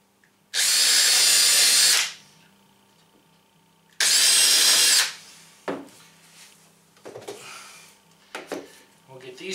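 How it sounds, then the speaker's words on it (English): A power drill bores small pilot holes into a teardrop trailer side door in two loud, high-pitched bursts of about a second and a half each, followed by quieter handling knocks and rubs. "Pre-drill a couple of little holes."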